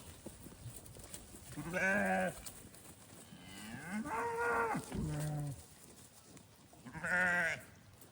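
Lambs on an Australian homestead farm bleat in a few loud, drawn-out calls, close by, separated by short pauses over faint outdoor background noise.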